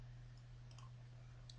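A single soft mouse click sounds against a steady low electrical hum, faint and close, with no voice present.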